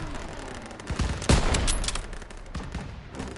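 Sustained battlefield gunfire in Call of Duty WW2, overlapping rifle and machine-gun shots crackling steadily with one heavier report near the middle.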